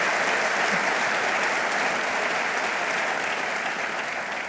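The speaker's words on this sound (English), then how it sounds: "Yes, give her a round of applause." Sustained audience applause fills a government economic development funding announcement with Governor Andrew Cuomo, a dense, steady wash of many hands clapping that holds evenly throughout and fades only slightly at the end.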